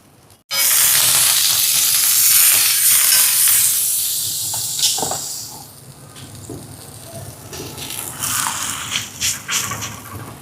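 Potato rotti roasting on a hot pan: a loud, broad sizzling hiss begins abruptly, then settles into a quieter crackle with scattered small pops and ticks.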